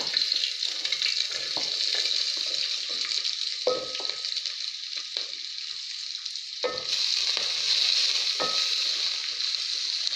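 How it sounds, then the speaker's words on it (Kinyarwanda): Onion sizzles and fries in hot oil in a pan, a steady bright hiss throughout with occasional crackles and light stirring knocks, no talking. "Amavuta arahiye, reka dushyiremo igitunguru."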